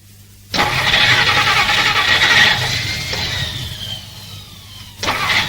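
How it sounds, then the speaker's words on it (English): A car engine cranks with a rapid whirring grind that sputters and fades without catching, then a second cranking attempt starts abruptly at the end; close and loud, no voices. "The car won't start."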